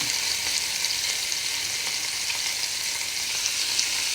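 Ridge gourd peel frying in ghee, a steady, close, even sizzle with faint stirring clicks and no talking.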